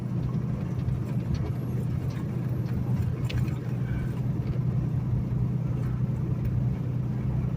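A truck engine keeps running after repeated attempts to power it off, a steady low rumbling drone that stays loud and continuous throughout with no speech.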